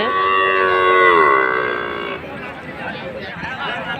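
A buffalo lets out a long, deep, loud moo, followed by a noisy crowd at the Pebbair, Telangana buffalo and oxen market with voices murmuring close by.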